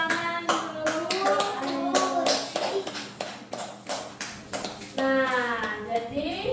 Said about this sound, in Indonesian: oke, tepuk tangan dulu.